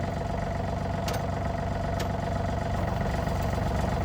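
A Yanmar AF222 tractor engine runs in gear with a steady, loud mid-pitched drone throughout, punctuated by two brief sharp clicks.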